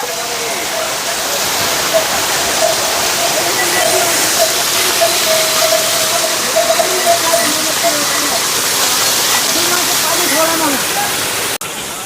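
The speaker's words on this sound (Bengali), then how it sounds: "ঝর্ণা একদম কাছে, আপনাদেরকে ঝর্ণাটা দেখায় কত সুন্দর লাগছে।" A waterfall close beside the mountain route to Kedarnath roars in a steady, loud wash of falling water that holds unbroken throughout, with faint tonal sounds drifting over it.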